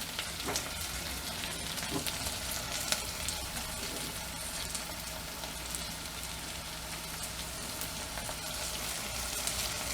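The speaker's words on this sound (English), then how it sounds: "Throw this in here and kind of fry it, or at least kind of sweat the cabbage" Cabbage sizzles and sweats in a hot pan, a steady, fairly quiet crackling hiss with occasional stirring clicks running throughout, no voices.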